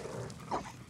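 A dog barks once in the Fallout 4 video game, a short mid-pitched yelp rising over steady game background noise, close and fairly loud.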